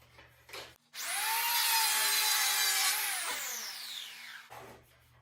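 Power planer run along a rattan sword blank, a single loud whining pass of about two seconds with a steady tonal hum that drops off as the cutter spins down, with brief quieter knocks before and after.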